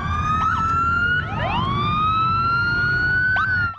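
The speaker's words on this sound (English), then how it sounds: "A caravan of police cars, lights flashing, rode here to the police memorial" Loud police sirens wail close by, several overlapping tones rising and sweeping together as a procession of police cars passes at night in Cincinnati.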